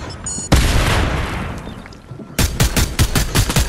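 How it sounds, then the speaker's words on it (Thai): Grenade launcher firing in the video game Fortnite, a loud booming blast with a long decaying rumble, followed by a rapid series of sharp repeated gunfire shots, close and without talk. "มันเป็นปืนระเบิดเสียเปรียบ"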